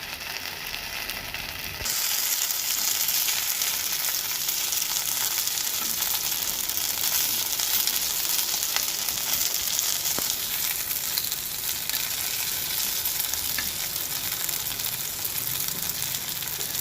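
Fish masala fry (meen varuval) sizzling on a hot griddle, a dense steady crackling hiss that jumps louder after two seconds and continues alone to the end.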